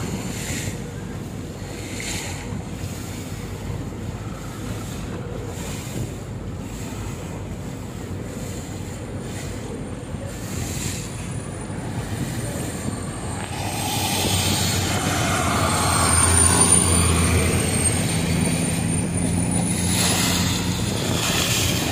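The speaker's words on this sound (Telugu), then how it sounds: "చూడండి, మేము ఎక్కుండేది చాలా పెద్ద బోటు. ఇదే ఎగురుతుంది వాటర్ పైన." A large river boat's engine rumbles steadily as it moves across water in Bangkok, with wind and splashing waves growing louder toward the end.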